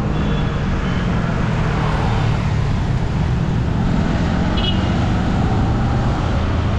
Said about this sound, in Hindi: गाड़ी वाड़ी का भी साउंड है, विंड का भी साउंड है